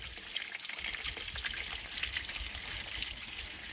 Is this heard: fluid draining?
yes